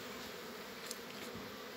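Young honeybees, newly emerged from the brood, take their first flight, filling the air with a steady, dense buzzing hum that stays even and close throughout, with no voices.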